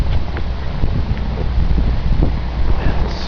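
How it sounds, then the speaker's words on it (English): Strong wind gusting during a February blizzard, roaring and buffeting close against the microphone in a continuous rough rumble. "wind gusts up to almost like 40 miles per hour in some spots"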